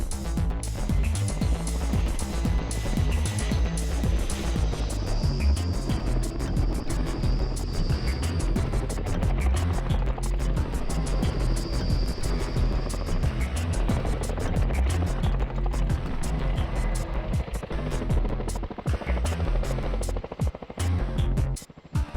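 An RAF Chinook helicopter at an air display, a loud, steady, broadband rotor and engine roar that stays close and constant throughout, with a faint high whine rising above it midway.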